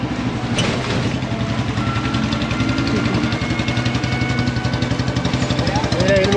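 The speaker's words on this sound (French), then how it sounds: "C'est lui que vous entendez derrière avec sa Royal Enfield." A Royal Enfield motorcycle idles nearby at a hotel in India, a steady thumping low-pitched engine pulse with regular rhythmic beats running throughout, fairly loud in the background.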